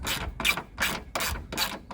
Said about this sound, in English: I have got my 10mm socket. This is just going to undo this bolt here